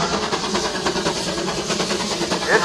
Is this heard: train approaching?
yes